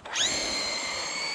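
A Traxxas Drag Slash RC drag car launches off the trans brake at full throttle, its electric motor rising in a sharp whining sweep and then holding a loud, steady high-pitched whine, alone without talk.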